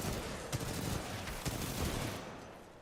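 Rapid gunfire from weapons shooting enemies in the Titanfall 2 video game campaign, a dense continuous rattle with a few heavier punchy shots standing out, loud and close throughout.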